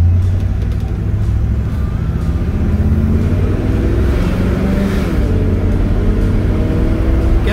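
A 1968 Chevrolet Impala SS with a 327 V8 and automatic transmission accelerates with a loud, steady low engine roar and broad rumbling exhaust throughout, heard up close with no talking.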